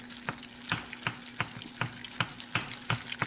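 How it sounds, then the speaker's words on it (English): Box mac and cheese noodles stirred in a pot, rhythmic wet scraping and sloshing strokes about every half second, close and moderately loud, with no talking. "Stirring the noodles, stirring the noodles."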